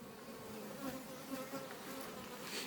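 Honey bees hum steadily around a hive in early spring, a soft continuous buzz with slight swells as individual bees drift nearer, heard alone without talk.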